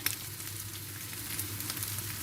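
Red pepper flakes, black pepper and salt are stirred into hot oil in a pan, giving a steady close sizzle throughout with faint scraping from the stirring and no voices.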